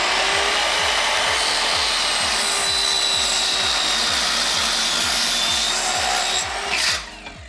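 Aluminum stock is cut in a van with a power tool that makes a loud, steady grinding rasp with a fast pulsing rhythm, close by, before it winds down and stops near the end.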